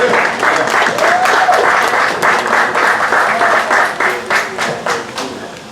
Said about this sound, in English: So could y'all please give him a round of applause.